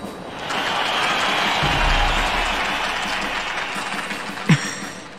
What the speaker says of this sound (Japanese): 親愛なる市民諸君、勝者に惜しみない拍手と喝采を。